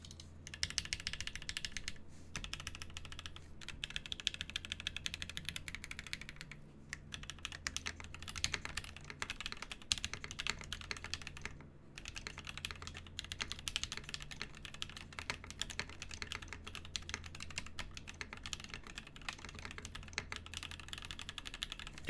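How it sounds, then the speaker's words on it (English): Steady, rapid clacking of a mechanical keyboard with previously fitted Gateron switches during a typing test, an older board being refurbished; dense keystrokes continue without pause across the whole stretch, moderately loud and close, with no voices. "we're going to do a typing test anyways"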